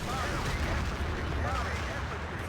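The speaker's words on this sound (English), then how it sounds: "Artillery coming down." Artillery shells landing in a Battlefield 2 32v32 match on the Strike at Karkand map, a dense, continuous low rumble of distant booms and gunfire with no clear individual blasts.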